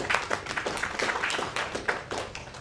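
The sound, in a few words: audience applause welcoming a panelist on stage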